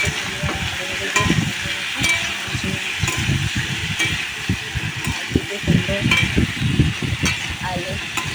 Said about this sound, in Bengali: তো কুমড়ো আর আলুগুলো দিয়ে নাড়তে থাকছে